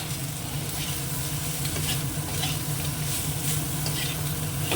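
Fish head fries in a pan with ginger paste, turmeric and coriander-cumin powder while being stirred, producing a continuous close sizzle broken by scraping stir strokes, with no voices.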